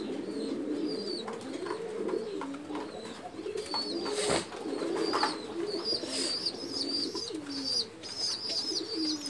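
A pigeon, recovering after egg binding and being put back in its cage, gives soft repeated cooing phrases close by, along with rustling and small chirps, and no one talks.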